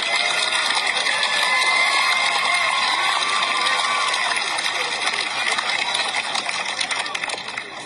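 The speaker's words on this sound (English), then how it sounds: "give them a round of applause" A crowd at a school graduation ceremony applauds and cheers in a dense, steady wash of clapping with shouts mixed in. The noise stays loud throughout and tapers slightly toward the end.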